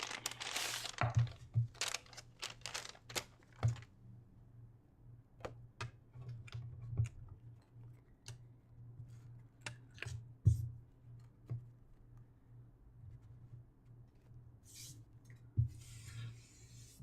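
Craft kit paper and materials crinkling and ticking in scattered short bursts over a quiet low hum, close and fairly soft, with brief rustles at the start and end.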